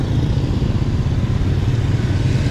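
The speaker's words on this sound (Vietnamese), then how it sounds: "Thì bây giờ toàn xe cổ, xe máy không thôi." Motorbikes pass along a street in Hue, Vietnam, giving a close, loud, continuous low engine rumble with a light rattling texture and no voices.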